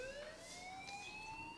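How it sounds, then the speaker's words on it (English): A fire alarm wails in the video game Life is Strange, a faint continuous tone sliding slowly upward in pitch over a steady background hiss, with no voices. "Hey, do you hear that fire alarm?"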